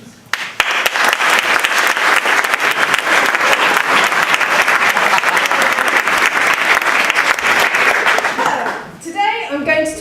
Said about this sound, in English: So, big round of applause if I can invite Mel up onto the stage.